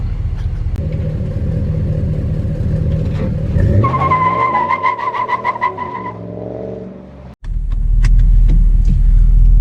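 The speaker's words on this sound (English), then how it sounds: "another thing I like about this truck that the Raptor cannot do is a standing burnout without the brakes" A 2018 Dodge Ram 1500 Night Edition pickup does a standing burnout: a loud engine rumble climbs into a revving, whining wail with tire squeal, then cuts off sharply and gives way to a steady, close engine roar.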